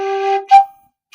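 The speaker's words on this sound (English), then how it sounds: "the third harmonic is moving 3 times as quickly, and it sounds like this" Third harmonic of a flute note: a short, bright, sustained tone rich in overtones, followed by a brief breathy burst that settles into a thinner pitch and fades, with a faint tiny blip after a pause.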